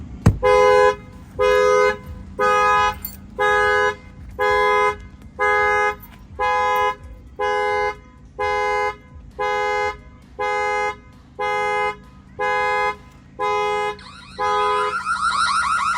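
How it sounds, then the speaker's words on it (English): An Infiniti Q50's factory car alarm blares in loud, evenly spaced electronic horn blasts, about a dozen repeating pulses in a steady rhythm, close and dominant with no talk over it. "Let me see if the factory alarm is engaged."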